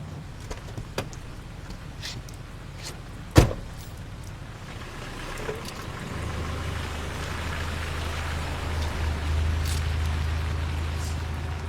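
Steady rain falling around a car, with a soft hiss throughout, a sharp click or thump early on and a low engine-like hum rising in the second half; no talking.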